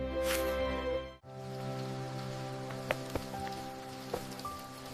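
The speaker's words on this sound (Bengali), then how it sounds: "বৃষ্টি এত জোরে হলে তো সব ভেঙে ফেলবে" Heavy cartoon rain pours down as a steady, dense wash of drops, with a few sharper knocks and drips standing out over a soft sustained tonal background.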